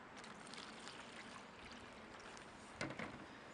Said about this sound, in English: Pour a little warm water in there.